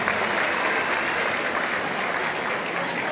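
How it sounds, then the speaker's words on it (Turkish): Audience at a mosque construction project presentation clapping together, a dense, even roar of applause holding steady from start to finish. "Hep beraber alkışlıyoruz."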